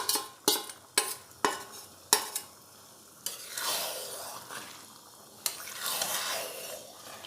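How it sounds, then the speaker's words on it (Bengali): Marinated mutton is added to a hot pan and stirred, opening with a series of sharp spatula knocks and then a rising, crackling sizzle that swells and fades in waves. "এবারে দিয়ে দেবো ম্যারিনেট করে রাখা খাসির মাংস।"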